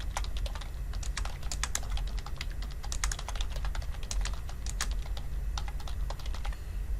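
Typing on a computer keyboard while entering a name, a steady run of close, crisp key clicks with uneven rhythm and no voices.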